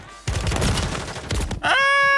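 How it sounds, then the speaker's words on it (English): Warzone match with a dense burst of gunfire fired through thin wooden walls, loud and close, cutting off abruptly before a tonal in-game sound. "I was shooting you through the very thin wooden walls"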